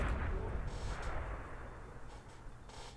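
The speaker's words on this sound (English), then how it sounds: "So, just boom. Big explosion and everything." A big video game explosion booms loud and heavy at the start, then rumbles and fades through the rest of the clip, with a few fainter pops and crackles.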